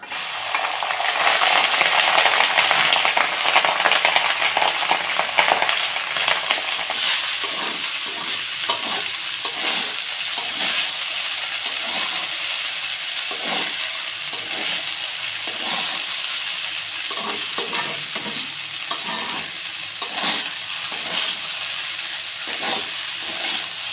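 Rice stir-fried with cumin in a pan for restaurant-style jeera rice gives a steady, close sizzle with repeated scraping and stirring strokes at a regular pace, and no voices are heard.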